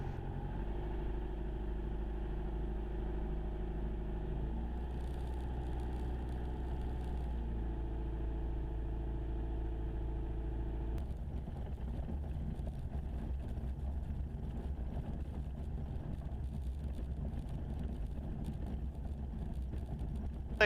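Steady drone of a Jabiru light aircraft engine while taxiing at an airfield, a constant low hum with tonal harmonics that shifts character partway through, heard from inside the cockpit with no talking.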